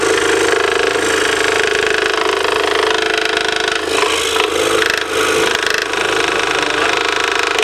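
Steady, continuous rasping of a scroll saw's fine blade cutting through wood, loud and close, running without pause.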